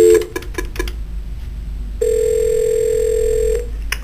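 A Nortel office desk phone dials out to voicemail: a few quick keypad tones at the start, a pause, then a steady, loud single tone held for about a second and a half before stopping.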